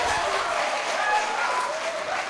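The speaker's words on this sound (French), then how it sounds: "Applaudissez pour vous-même." A studio audience applauds, a dense, even wash of clapping that holds steady for a couple of seconds, fairly close and loud, with no one talking over it.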